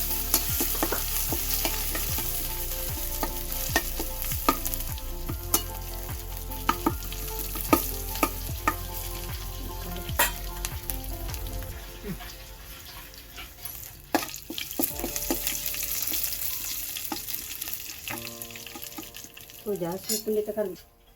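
Garlic and curry leaves sizzle steadily in hot oil for a village-style tender bamboo shoot palya, with close stirring scrapes and clinks running throughout.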